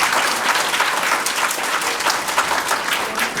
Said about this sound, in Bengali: সবাই জোরে একটা করতালি দেন।